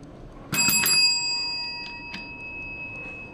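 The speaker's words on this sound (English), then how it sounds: "So there's the bell." A bell rings out sharply in a few quick strikes at an office doorway, its bright metallic tone lingering and fading over a quiet indoor room.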